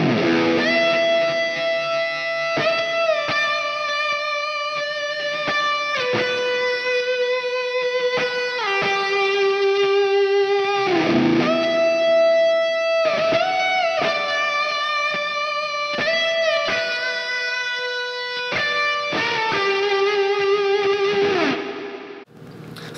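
Electric guitar through a Line 6 Helix with an effected, slightly distorted tone, playing a repeating chord riff with sustained ringing notes, loud and close with no talking.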